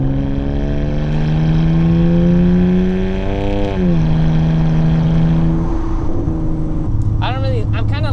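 BMW N52 inline-six engine in a car pulling hard, a loud steady harmonic drone rising in pitch, dipping briefly at a gear change, then climbing again, with engine noise dominating throughout.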